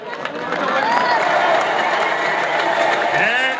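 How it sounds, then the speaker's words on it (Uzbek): Audience applause at a Navroz holiday celebration in Qala village, a steady, dense clapping wash with voices and chatter mixed in throughout. "Qarsak!"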